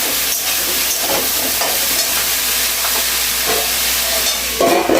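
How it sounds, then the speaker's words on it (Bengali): Vegetables with turmeric being stir-fried in a pan for veg chowmein give a loud, steady, close hiss of sizzling oil, broken by repeated scraping and tossing strokes of a spatula. "সবজিটাকে আগে ভালোভাবে ভাজা ভাজা করে নেব।"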